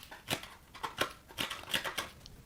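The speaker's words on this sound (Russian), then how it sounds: "Картон и ножницы." Scissors snipping through cardboard, six or seven crisp cuts in an uneven rhythm, close and clear with no talking.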